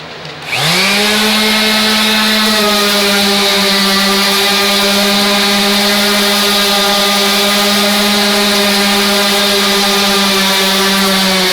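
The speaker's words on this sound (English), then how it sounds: "We finished sanding" A power sander on wood starts up and runs at a steady, loud, high-pitched whine, holding constant without pause or change throughout.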